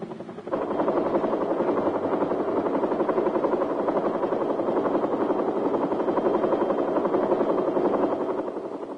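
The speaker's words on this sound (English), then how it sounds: "While the sounds of helicopters can be heard throughout" Huey military helicopters flying in Vietnam in 1967, a loud, continuous rotor thump and engine drone that holds steady at close range throughout.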